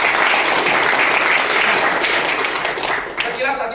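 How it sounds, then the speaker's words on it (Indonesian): Sustained applause fills a seminar hall at a community meetup, loud and steady for the whole stretch, with a few voices mixed in beneath the clapping. "Tepuk tangan untuk kayak gitu."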